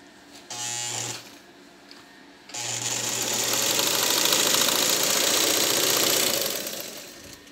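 Vigorelli sewing machine stitching a wide zigzag, a close mechanical whir with rapid knocking: a short one-second burst, a pause, then a steady five-second run.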